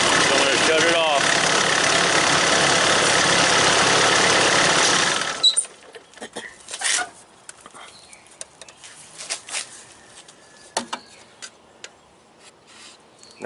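An excavator's diesel engine idles with a steady, close rumble for about five seconds, then shuts off, leaving quiet scattered clicks and handling noises.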